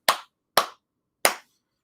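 Three crisp hand claps, loud and close, evenly spaced with brief silence between them.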